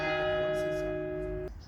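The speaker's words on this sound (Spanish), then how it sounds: "Y cada hora suenan las campanas." Church bells in a Paris church ring out the hour with a bright, sustained metallic tone that hangs steadily and then cuts off abruptly, heard from a moderate distance against faint background noise.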